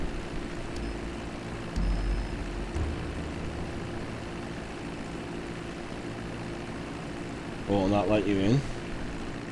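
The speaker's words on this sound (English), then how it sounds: "Don't walk into the propeller." A parked aircraft's propeller engine drones steadily in GTA V Online, a low continuous hum under a player's speech and brief game sounds.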